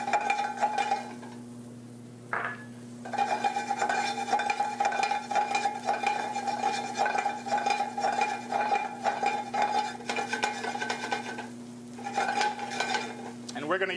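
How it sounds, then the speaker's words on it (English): Crab meat sautéing in a pan with softened unsalted butter and thinly sliced green onions, steady sizzle with frequent spoon scrapes and clinks against the pan, continuous throughout. "And now we'll saute our crab meat."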